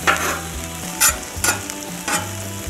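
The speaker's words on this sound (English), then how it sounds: "Make sure that you toast your buns." Burger buns toast on a Cuisinart 360 griddle with a steady sizzle, broken by a few sharp scraping strokes of a spatula on the flat top, while a low tonal hum runs underneath.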